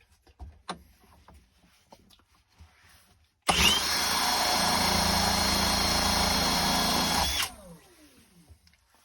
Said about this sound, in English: I'm only using an electric drill, so it might not get the speed up very well